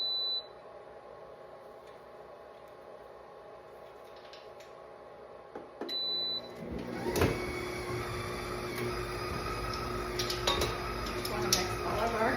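An electric mixer blends meatball ingredients; a few short beeps and soft kitchen clatter come first, then the motor starts and whirs loudly and steadily to the end.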